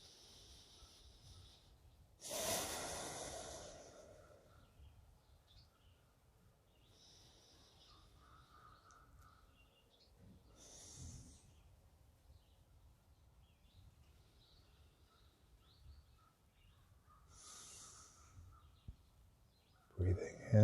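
Loud, deep cleansing breaths taken slowly in a quiet room, several long airy inhales and exhales spaced a few seconds apart, close to the microphone.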